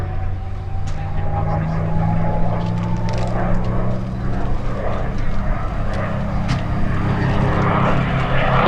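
A P-51 Mustang (CA-18) propeller plane drones loudly overhead during an airshow flying display at Sywell, its engine tone shifting steadily as it flies past, continuous and close throughout.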